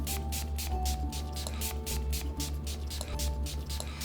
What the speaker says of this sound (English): start with your mist and generously spray your entire face and neck